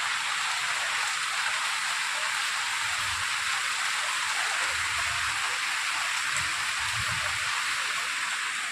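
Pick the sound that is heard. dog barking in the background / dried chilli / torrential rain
torrential rain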